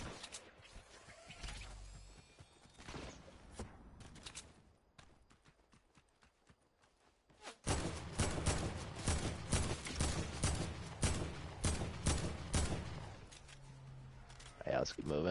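Sniper and other gunfire crack in a Fortnite match as bursts of sharp shots, sparser early and then dense and loud in rapid volleys, with players' voices talking over the action.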